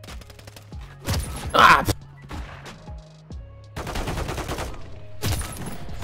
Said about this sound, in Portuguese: tem sniper me atirando